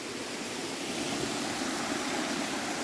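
A waterfall flows with a continuous broadband rush, close and steady, with no voices over it.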